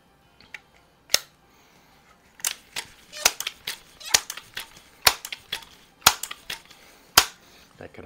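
Crosman 2200 Magnum .22 caliber pump air rifle fired offhand outdoors, a handful of sharp, fairly quiet cracks spaced a second or so apart with faint clicks and handling sounds in between.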